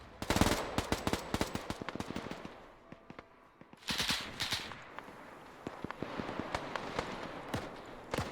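Rapid bursts of tank and small-arms gunfire in a World War II combat video game set at the Battle of Raate Road, loud and close, with dense volleys, a brief lull, then renewed firing.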